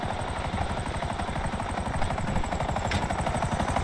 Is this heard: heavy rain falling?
no